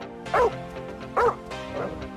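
A dog barks twice in quick succession, close and sharp, followed by a softer whimpering yip, with a faint background hum.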